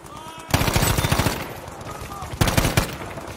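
Automatic M2 Carbine bursts in the Battlefield 5 shooter, a long rattling string of rapid shots followed after a lull by a shorter burst, loud and up close.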